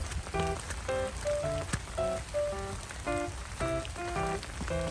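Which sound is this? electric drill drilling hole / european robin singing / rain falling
rain falling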